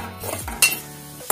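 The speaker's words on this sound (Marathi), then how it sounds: "याच्यामध्ये आपल्याला या शेवया भाजून घ्यायचं" Vermicelli for a sweet kheer is stirred and roasted in ghee in a pan, with a soft sizzle under scraping and clinking of a spoon against the pan, close up with no talking.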